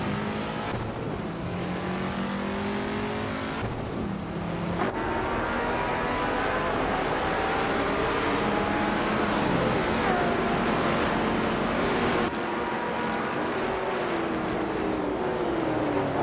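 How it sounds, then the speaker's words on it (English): A 1965 Pontiac GTO racing in a video game, its engine droning and revving continuously at high volume, with shifting pitch as it accelerates and a few abrupt drops in tone suggesting gear changes. "Newts is driving a 1965 Pontiac GTO"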